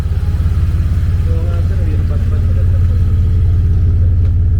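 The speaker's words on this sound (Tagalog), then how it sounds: "O, parinig natin ulit yung idle." A Ford Ranger Raptor V6 engine idling, a loud, close, steady low rumble with a fast even pulsing throb, a voice briefly speaking over it partway through.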